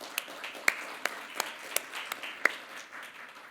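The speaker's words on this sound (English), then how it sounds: "if we can give them a round of applause" Scattered claps from an audience at an international sash ceremony for fall graduates, a handful of sharp separate hand claps over a soft, steady room murmur, fairly distant and quiet.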